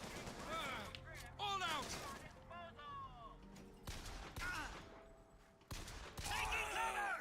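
Bursts of gunfire crack repeatedly in the video game BioShock Infinite, mixed with loud shouted voices and combat chatter. The shots come in uneven volleys throughout.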